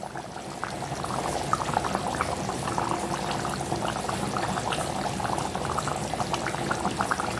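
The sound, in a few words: pouring raw coconut oil into fish curry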